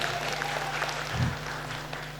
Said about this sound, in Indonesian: kita tepuk tangan namun luar biasa sekali